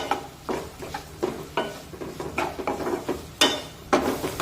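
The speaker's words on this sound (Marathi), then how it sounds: "एकसारखा कांदा उलटण्याने असा हलवून घ्यायचा म्हणजे तो सगळीकडून एकसारखा भाजला जातो" Onion frying in a pan over medium heat, turned and stirred with a spatula, giving repeated scraping strokes about every half second over a soft, steady sizzle.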